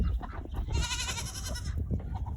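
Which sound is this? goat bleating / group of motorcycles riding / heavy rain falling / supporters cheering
goat bleating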